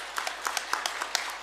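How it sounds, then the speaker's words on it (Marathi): An audience at a farmers' poetry gathering gives a brief round of applause; scattered, fairly faint individual claps from a small group, irregular and sparse over a short burst. "चला एकदा टाळ्या वाजवूयात."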